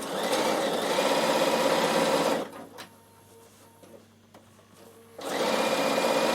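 A Bernina sewing machine runs at steady speed for top stitching, a loud close mechanical whir that pauses briefly with small clicks and hum before the stitching resumes.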